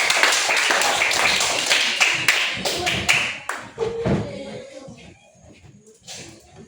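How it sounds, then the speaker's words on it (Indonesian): Children in a classroom clap for two classmates, a brisk burst of hand claps that fades after a few seconds into quieter shuffling and a teacher's voice talking. "Tepuk tangan dulu untuk mereka berdua"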